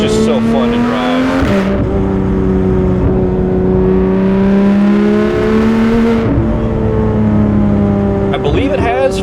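Porsche 991 911 GT3 RS engine and exhaust heard from inside while accelerating through corners, a loud, rising and falling flat-six howl across several gear changes, with someone talking over it.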